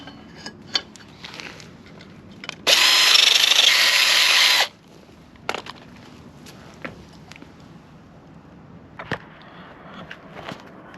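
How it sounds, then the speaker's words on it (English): A power drill bores out holes in a mini bike sprocket, one loud two-second burst of high whining grind, surrounded by scattered clicks, taps and handling knocks of metal parts. "I'm gonna have to drill out some of these holes because none of the screws fit."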